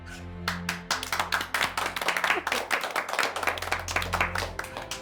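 Several judges clap at once in a quick, uneven burst of separate hand claps that are close and crisp, thinning out after a few seconds, with no speech.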